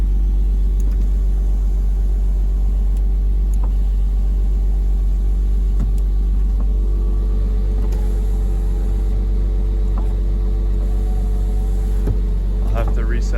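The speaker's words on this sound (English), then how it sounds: "It's idling great." A Porsche Boxster engine idles steadily after an immobilizer alarm module repair, a low, even rumble running close by throughout, with a few faint clicks and a person talking in between.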